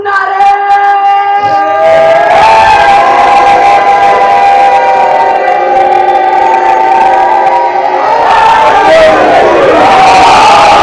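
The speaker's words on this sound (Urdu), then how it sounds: "ہاتھوں کو بلند کر کے نعرے" A large crowd at a Shia religious mourning gathering chants slogans in unison with raised hands, a loud, sustained mass of voices that swells, drops briefly and then surges again.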